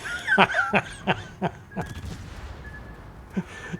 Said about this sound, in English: Armour-piercing, 6 220mm armour-piercing shells out.